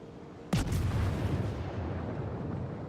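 A naval gun fires a shell in World of Warships, a single sharp heavy boom followed by a rolling low rumble that slowly fades.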